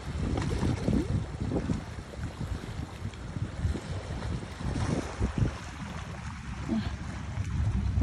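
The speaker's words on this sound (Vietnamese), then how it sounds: "Nghe tiếng sóng biển rất là kiểu cảm" Sea waves washing ashore near Dinh Cậu in Dương Đông, Phú Quốc, a continuous broad rush mixed with wind buffeting the microphone and swelling and easing throughout.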